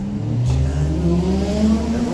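An engine revs up on a city street in Chongqing, loud and close, its pitch climbing and wavering over about two seconds with a faint voice mixed in.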